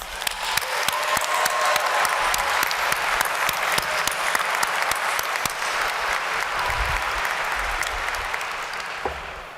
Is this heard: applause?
yes